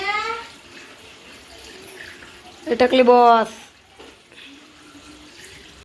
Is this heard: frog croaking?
no